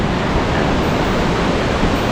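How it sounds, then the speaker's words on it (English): Waterfall in Cateel, Philippines roars as a steady, dense broadband rush of falling water, loud and close with no pauses, filling the whole clip on its own. "And we start with the waterfalls."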